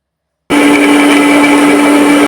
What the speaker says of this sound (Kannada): ಅದರ ಸ್ವಲ್ಪ ಹಾಲನ್ನ ಹಾಕ್ಕೊಂಡು ಆ ಬಾದಾಮಿ ಜೊತೆ ಮಿಕ್ಸ್ ಮಾಡಿ ಗ್ರೈಂಡ್ ಮಾಡ್ಕೊಂಬರ್ಬೇಕು